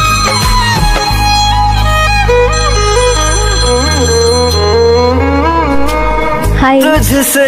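A phone ringtone plays loud and close, a continuous melodic tune of sustained musical notes that shifts pitch steadily and rings alone without any voices.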